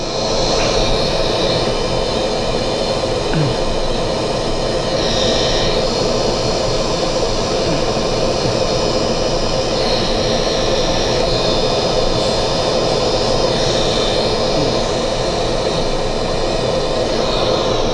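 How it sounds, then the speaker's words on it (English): A dental polishing wheel smoothing a temporary crown gives a loud, continuous whirring drone with a steady high whine, holding nearly constant from start to finish. "you take the wheel, the first wheel, the polisher, and then you can just smooth that off a little bit"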